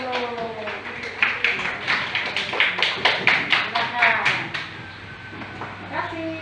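A small group clapping hands in a classroom teaching practice session, a run of sharp, fairly close claps with a steady rhythm, while a voice speaks over them near the end.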